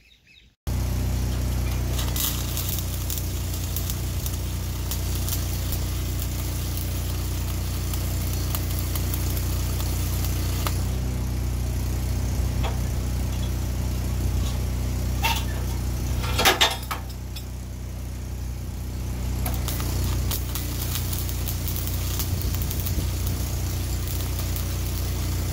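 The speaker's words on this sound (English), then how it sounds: "Just gotta get my welder back here, crank it on, and tack them in place." An engine-driven welder runs steadily after starting up, a constant mid-pitched idle hum with faint clanks of scrap metal during a DIY box blade build outdoors.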